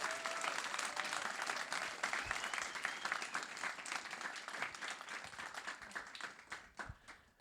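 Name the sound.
audience applause after film screening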